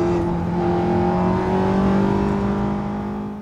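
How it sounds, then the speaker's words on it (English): A Porsche 911 Turbo S sports car driven hard accelerates, a loud sustained engine whine with steady tonal harmonics that swells slightly and holds, heard without talk. "driving a new 911 Turbo S, by the way, and driving it quite hard, as you'll see."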